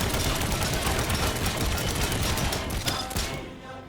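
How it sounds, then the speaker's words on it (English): Machine gun in Trailmakers pounds a heavy built armor block with dense, continuous rapid fire, loud and near throughout, easing off in the final half second. "First off, the machine gun."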